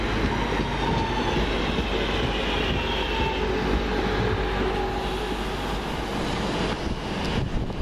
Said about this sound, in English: And just now departing, the 1127 Virgin train service from London Euston to Manchester Piccadilly via Stockport.